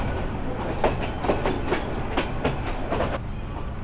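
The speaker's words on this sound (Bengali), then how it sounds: "ট্রেন স্লো হয়ে যাচ্ছে, অর্থাৎ সামনে রেলওয়ে স্টেশন আছে কোনো একটা" A commuter shuttle train on the Chattogram University line slowing as it approaches a station, with steady rumble and rhythmic clickety-clack of wheels over rail joints, fairly close and continuous before quieting near the end.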